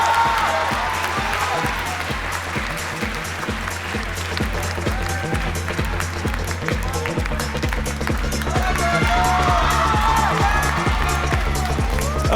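A school audience applauds while music with a steady thumping beat plays, a continuous wash of clapping over the rhythmic backing, as guests and new pupils are welcomed on stage.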